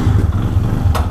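A motorcycle engine runs with a steady, loud, low rumble as a Sunday ride begins, close by and without voices.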